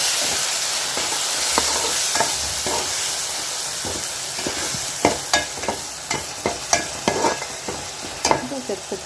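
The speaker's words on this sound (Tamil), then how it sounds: "அதையும் சேர்த்து நல்லா வதக்கிக்கலாம்." Tomato paste sautés in a pan with a steady sizzle and hiss, while a utensil scrapes and stirs in repeated sharp clicks and taps that grow busier toward the end.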